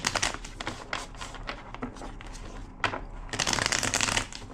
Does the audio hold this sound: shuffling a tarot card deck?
yes